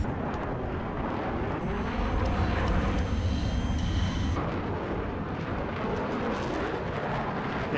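Jet aircraft roaring through a Battlefield 4 match on the Paracel Storm map, a loud sustained rumble that swells in the middle and sits over continuous battle noise with no talk.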